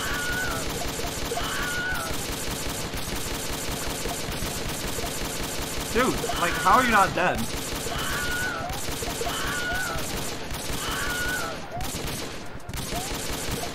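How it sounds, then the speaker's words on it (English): Loud, rapid bursts of gunfire from a video game set in a prison, crackling almost continuously with a heavier flurry in the middle, while a player talks over it. "the loud gun firing might be a problem"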